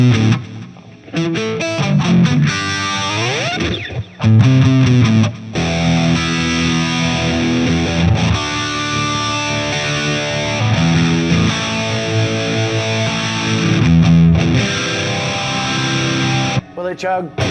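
An Epiphone ES-339 Pro electric guitar in Pelham Blue with P90 pickups plays through heavy overdrive, its thick distorted chords ringing loud and sustained, with brief breaks between phrases.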